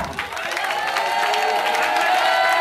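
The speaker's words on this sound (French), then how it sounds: "ça c'est l'acclamation" A church congregation at a spiritual retreat erupts in acclamation, a dense roar of many voices shouting and cheering together with some clapping, sustained and loud across the clip.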